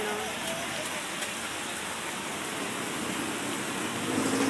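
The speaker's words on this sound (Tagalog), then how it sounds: "Malakas ang ulan." Heavy rain from Typhoon Kristine pours down steadily at a market in a dense, unbroken hiss, close and loud throughout.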